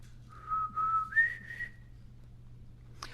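An elderly woman whistles a short melody: a steady held tone, then a few rising notes and a longer sustained pitch, soft and close over a low hum in a quiet room, ending with a brief click.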